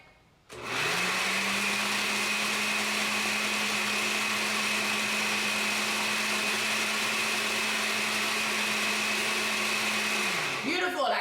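A kitchen blender grinds split peas for Pholourie, starting abruptly and holding a loud, steady motor whine with a droning hum for about ten seconds before winding down, close up with no talk over it.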